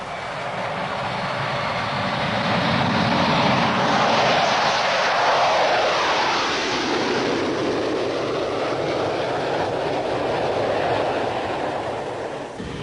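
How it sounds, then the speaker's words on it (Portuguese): An F-15 fighter jet's turbines roar with a loud, sustained broadband whine and rumble that swells and shifts in pitch as if passing, with no voices over it. "Quando as turbinas são ligadas, o piloto fica no controle de uma potência fora do comum."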